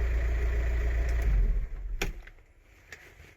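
A VW Transporter engine idles with a possible exhaust leak, a low, rough rumble that fades as the engine is switched off, leaving a few faint clicks.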